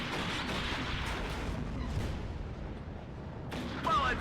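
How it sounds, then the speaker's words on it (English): In the video game Warno, a tank's main gun fires amid ongoing battle sounds, with booming, rumbling shots and distant gunfire over a steady noisy backdrop. "Shot comes in from the tank."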